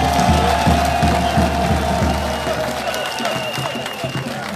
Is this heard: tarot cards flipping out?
no